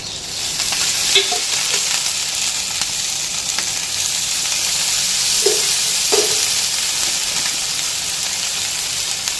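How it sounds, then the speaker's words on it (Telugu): Okra and green chillies fry in oil in a pan with a steady, loud sizzle throughout, broken by a few soft stirring scrapes, with no voices. "ఇలా బెండకాయలు పచ్చిమిర్చి వేగాక రెండు స్పూన్లు ఆయిల్ వేసుకొని"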